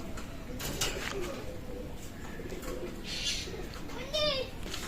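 Pakistani Teddy, Aliwala and Rampuri pigeons coo softly at close range amid rustling and scattered bird calls, with someone talking over them.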